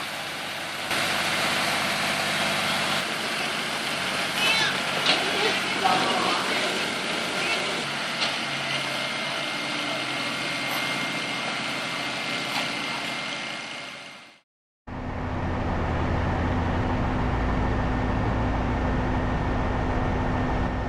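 A heavy haulage truck engine idles and rumbles in a mine, a steady mid-pitched drone heard close, broken by a brief cut to silence before the engine noise resumes.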